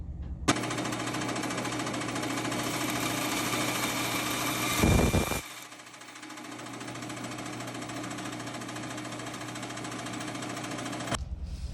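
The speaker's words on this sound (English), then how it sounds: "After just a few seconds with the rotary tool grinding it down, I now have a stump that accepts that spring" A handheld rotary tool grinds down a small metal stump, a loud, steady high-pitched whine with a dense buzzing texture that runs continuously for about eleven seconds, briefly intensifying midway as the bit bites harder, then stops abruptly.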